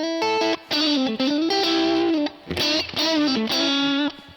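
Electric guitar played through a Fender Deluxe Reverb-style amp model, clean and slightly thin with lower output, ringing sustained chords and melodic lines with brief gaps, played alone and up close.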